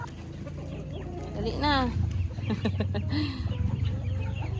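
Chickens cluck and squawk nearby at feeding time over a steady background hum, with a few louder calls rising above, while a person says a couple of words.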